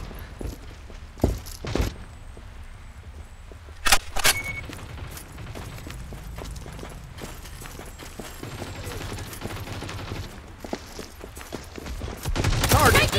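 Gunfire from a G36 drum-magazine rifle in the Modern Strike mobile shooter during a Blackwood Pines deathmatch, with scattered sharp shots and bursts over a busy game-noise bed, building to a louder cluster near the end.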